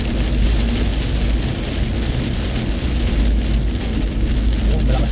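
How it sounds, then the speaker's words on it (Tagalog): Heavy rain pours down in Abu Dhabi in a steady, dense roar, loud and close, with no voices and no breaks. "Oh, malakas ang ulan na to, ha. Malakas na."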